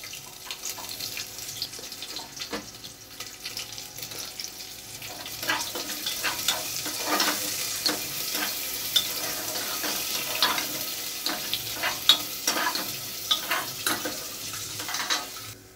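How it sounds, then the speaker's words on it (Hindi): Cashews and onions frying in oil in a pan while being stirred, a close crackling sizzle with frequent scraping clicks that grows busier toward the end, with no voices. "अब इसको थोड़ा सा काजू को फ्राई कर लेंगे। इसके बाद इसी में प्याज डाल देंगे।"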